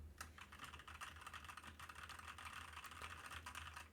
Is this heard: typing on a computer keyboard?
yes